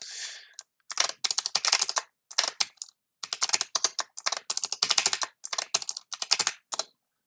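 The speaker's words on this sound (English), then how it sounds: "you'll get used to typing these passwords" Rapid bursts of clicking keystrokes on a computer keyboard, close and crisp, typed in short runs separated by brief pauses, with no talking.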